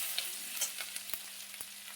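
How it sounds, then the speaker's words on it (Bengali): Grated ginger dropped into hot oil in a pan for an Indian curry, a steady close sizzle of frying with a few sharp crackles and pops and no talk. "আদা দিয়ে দিলাম"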